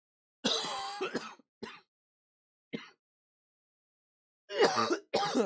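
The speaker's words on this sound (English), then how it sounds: "excuse me, I have a cough." Several harsh coughs in separate bursts, close and loud, with silent gaps between; a cluster early, a lone one midway, two more at the end.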